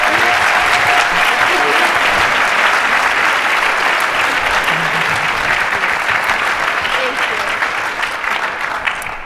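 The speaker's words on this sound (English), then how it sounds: "Round of applause." A full audience round of applause at a lecture event, steady and loud throughout with dense overlapping claps and a slight taper near the end.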